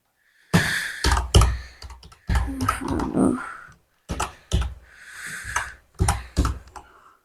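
Someone types a name on a computer keyboard while setting up Windows 10 in VirtualBox: close, crisp keystrokes fall in quick bursts separated by short pauses, with no voices.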